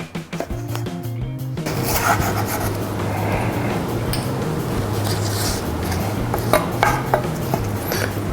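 A knife cuts lengthwise through a vegetable on a cutting board while noodles with black bean sauce are being prepared, with a scraping, rasping stroke and a few sharp knocks against the board. A low steady hum runs underneath.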